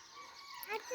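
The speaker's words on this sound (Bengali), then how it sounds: "এই যে মুরগি" A chicken gives a short, faint call against quiet morning surroundings, a brief rising cluck near the end with light background hiss.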